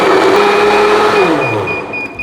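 A kitchen blender whirs loudly and steadily, blending a peanut and okra mixture with water; the motor pitch sags toward the end as the load shifts.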